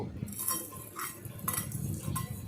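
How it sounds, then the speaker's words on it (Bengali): Metal utensil scraping and clinking against a pan while moong dal fries in oil, irregular close stirring scrapes with a faint sizzle beneath. "এরপরে আমি মুগ ডালটাকে তেল দিয়ে ভেজে নেব"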